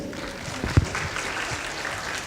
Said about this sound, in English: Let's give a well-round applause for the judges